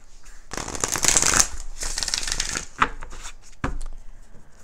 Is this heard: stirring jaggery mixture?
no